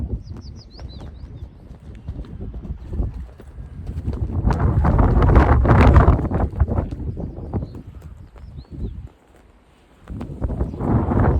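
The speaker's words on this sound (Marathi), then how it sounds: "वारा इथं भयानक जास्त आहे" Strong wind buffets the microphone on the hilltop of Vardhangad fort. Heavy, rumbling gusts rise and fall, with one brief lull near the end before the roar returns.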